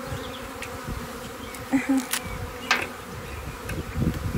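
Honeybees buzzing around a hive being worked with smoke: a close, steady droning hum with individual bees swelling louder as they pass near.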